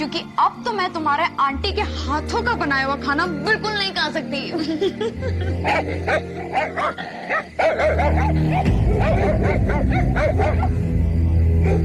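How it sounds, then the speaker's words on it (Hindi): Dogs bark and whimper in short yips amid people speaking, the barking mixing with speech and background music, fairly close and intermittent. "ये इतने सारे कुत्ते क्यों भौंक रहे हैं?"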